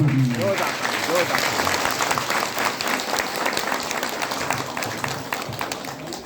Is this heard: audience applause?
yes